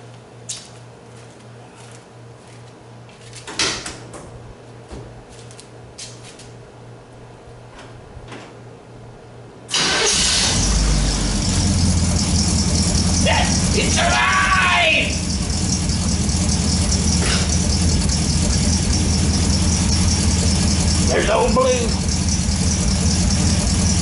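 A 1953 Chevrolet pickup is cranked and starts partway through after some quiet rattling. The engine then runs loud and close with a rough, steady idle, and people talk briefly over it.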